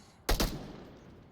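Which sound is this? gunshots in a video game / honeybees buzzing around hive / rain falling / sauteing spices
gunshots in a video game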